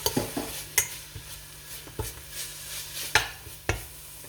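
Curry paste of pounded lemongrass, galangal, kaffir lime leaf and garlic stir-fried in vegetable oil, with a soft sizzle under repeated spatula scrapes and clinks against the pan, close and fairly quiet.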